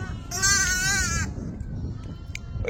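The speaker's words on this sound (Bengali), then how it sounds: "এই জন্য চিল্লাচ্ছে ভেড়ারা" A sheep lets out a loud, wavering bleat nearby, followed by rustling and low background murmur, with a voice faintly in the mix.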